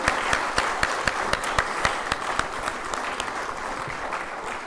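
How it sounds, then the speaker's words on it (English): An audience claps together at a corporate launch ceremony, a full, sustained round of applause with sharp individual claps popping out in a loose rhythm, fairly close and loud, with no talking over it. "I request all of you to put your hands together and start the day with a thunderous round of applause."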